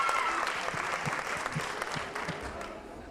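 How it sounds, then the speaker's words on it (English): An audience at a stand-up comedy show claps to welcome a comedian, with dense, steady applause that thins and fades toward the end. "give a big round of applause and welcome your first act for the second half, Dillan."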